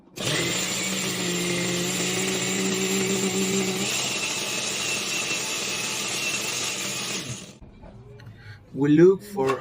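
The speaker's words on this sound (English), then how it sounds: "We remove from the pot and put them to blend." Kitchen blender whirring loudly as it purées cooked guavas for jam, a steady high motor roar for several seconds that cuts off, followed by brief talking.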